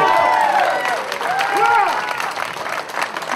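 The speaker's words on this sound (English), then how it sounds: "Give a big round of applause to Mr." An audience at the Louisiana Water Festival gives a speaker a round of applause: a steady, dense wash of clapping with whoops and cheering voices rising over it, fading slightly toward the end.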